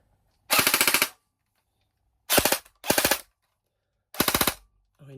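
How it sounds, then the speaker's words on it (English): A BB gun fires in four rapid bursts, each a tight string of sharp cracks; the first burst runs about half a second, with shorter volleys after pauses, loud and close with near silence between. "Like I said, it's a BB gun."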